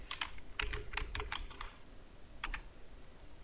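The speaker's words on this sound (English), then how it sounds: "type here your name" Keys tapped on a computer keyboard while a name is typed into a PDF signature form, two quick bursts of close, crisp clicks separated by a pause, with no talking.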